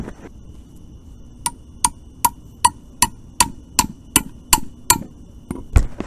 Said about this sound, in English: we'll tap that in